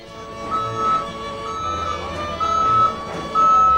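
A truck manoeuvres outside school buildings in Croatia, its reversing alarm sounding a steady series of loud, evenly spaced beeps over a low engine rumble.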